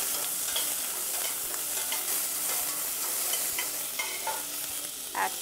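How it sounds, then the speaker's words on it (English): Onion sizzles in two teaspoons of hot oil in a pan while being stirred, a continuous bright frying hiss with scraping stir strokes, close and steady, and no talking. "we add onion, and we stir it."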